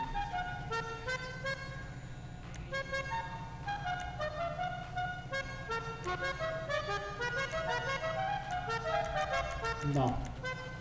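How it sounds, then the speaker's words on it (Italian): A musical car horn fitted to a car in GTA 5 plays a melody of sustained tones over a low engine hum, running continuously throughout. "Clacson, ci mettiamo un clacson musicale."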